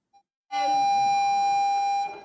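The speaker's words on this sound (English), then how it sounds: "As the bell rings to start the day at Shoemaker Elementary School" Elementary school bell ringing to start the day, a single loud, sustained electronic tone that sounds for about a second and a half after a brief faint blip.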